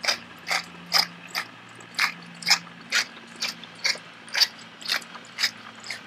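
A pepper mill grinds black pepper in a steady series of crisp ratcheting crunches, about two per second, close and clear, for a heavy seasoning of a one-pot beer brat dish.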